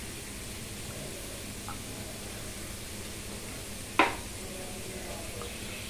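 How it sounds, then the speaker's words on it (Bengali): Leafy greens (shak) cook in a pan with a steady, even sizzle that runs throughout, broken once by a single sharp clink of a utensil against the pan. "এখানে বসিয়েছি শাক, মোটে শাক রান্না হচ্ছে"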